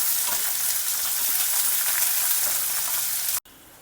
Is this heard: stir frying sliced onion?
yes